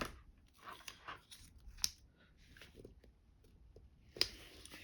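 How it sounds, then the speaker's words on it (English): Scissors snipping tape on a craft journal cover, with quiet close crunchy cuts, two sharper snips standing out, and soft handling noise between them. "So again, I'm just going to cut this off."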